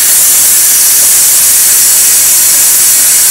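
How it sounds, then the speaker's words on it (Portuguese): A pressure cooker vents its steam in one loud, steady hiss that fills the whole stretch, with no talking over it. "Desligar a panela e vou tirar a pressão da minha panela."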